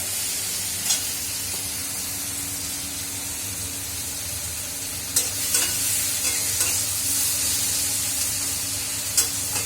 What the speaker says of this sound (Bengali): এই যে সব সবজি দিয়ে তাড়াতাড়ি বানিয়ে নেবো। একটু ভাজা ভাজা হোক